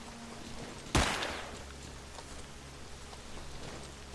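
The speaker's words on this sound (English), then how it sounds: "Who's shooting at me?" A single loud gunshot cracks out over steady rain-like ambience in STALKER during a firefight with Renegades, followed by faint, distant pops and no talking.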